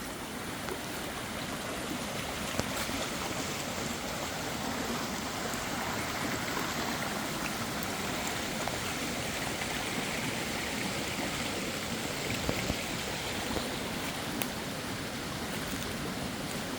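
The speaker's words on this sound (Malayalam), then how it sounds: "ഈ പറമ്പിൻ്റെ അകത്തോടെ ഒഴുകുന്ന തോടാണ്" A steady rush of flowing water, like a small stream running over stones through rubber and cocoa plantation land, continuous and fairly close, with no voices.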